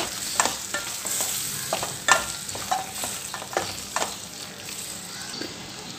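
Spoon scraping and stirring soya chunks through sizzling gravy in a pan, with irregular clinks and scrapes over a steady frying hiss.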